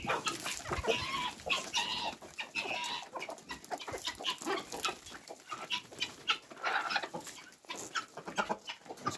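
Domestic hens cluck and chatter at an evening feeding of wheat, barley and corn in a backyard yard with about 25 hens and several roosters, a busy overlapping flock murmur with occasional louder calls close by.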